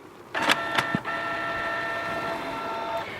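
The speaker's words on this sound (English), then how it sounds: "And as you can hear, the printer is on." A Canon G-2411 printer powers on with a few quick clicks and clunks, then a steady mechanical whir of its initialization running close and fairly quiet.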